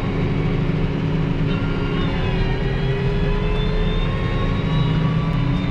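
A new tractor with an air-conditioned cab cruises down a rural road towing a shredder. Its engine gives a steady, heavy low drone that holds constant throughout, with no voices over it.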